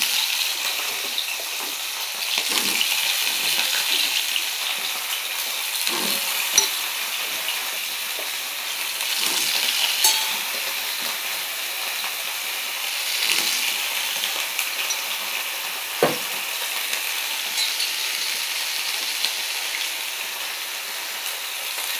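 Cauliflower florets sizzle steadily in hot oil in a pan, a continuous hissing fry with occasional louder spatters and stirring scrapes, close and without talk.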